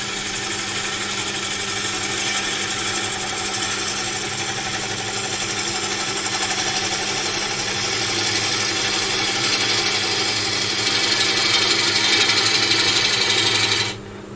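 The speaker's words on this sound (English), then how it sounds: "I was just rotating the bowl gouge around anti-clockwise while twisting the body away from the lathe." Bowl gouge cutting African blackwood on a wood lathe, a loud, continuous rough scraping hiss over a steady motor drone that persists for the whole stretch and cuts off abruptly at the end.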